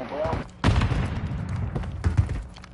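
Gunfire in Modern Warfare III, bursts of shots booming in a busy firefight, loud and close with the bursts coming in clusters, while a voice talks over part of it.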